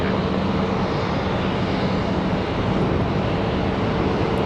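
An American Airlines Airbus jet lands on runway 18 right at Charlotte Douglas airport, a loud steady engine roar with broad rushing noise throughout.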